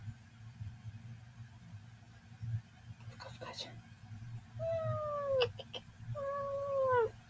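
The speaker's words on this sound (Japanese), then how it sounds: "猫さん。" A cat indoors gives two drawn-out, falling meows in the later seconds, fairly faint over a low steady hum, with soft murmuring voices earlier on.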